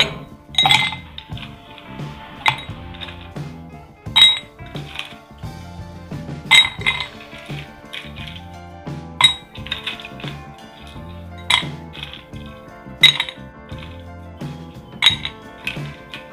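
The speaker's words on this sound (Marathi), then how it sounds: "यामध्ये आता आपण बर्फाचे काही खडे टाकूया।" Ice cubes dropped one after another into an empty drinking glass, giving sharp, bright clinks at irregular intervals with quiet pauses between them.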